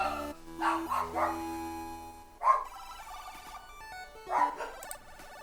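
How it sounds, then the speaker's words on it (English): A dog barks in a few short, excited bursts, a first cluster early on and then two more later, each separated by quieter stretches with tonal ringing. "Dog's going mental."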